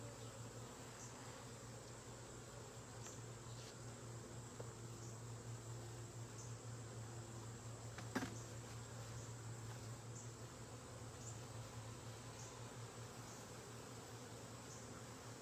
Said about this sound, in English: these bees are not happy that I'm messing with them right now